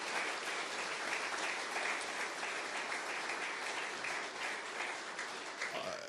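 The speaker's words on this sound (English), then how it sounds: "give them a round of applause at Lethbridge Housing Authority for their efforts" An audience applauds the Lethbridge Housing Authority team at a public announcement on homelessness supports, a dense, steady wash of clapping that holds evenly at moderate volume throughout with no voices over it.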